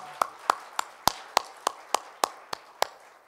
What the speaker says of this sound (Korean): 우리 영광의 하나님께 다시 한번 영광의 박수 올려드릴까요?